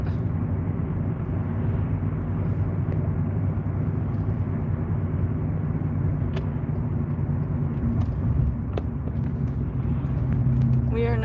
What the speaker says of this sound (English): We're still in the car.